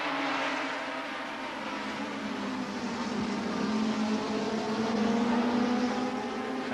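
Honda Works racing motorcycles, engines around 130 horsepower, race together at a 1982 ACU British Championship event, a continuous loud blended engine roar that rises and falls in pitch as the bikes pass, with no voices.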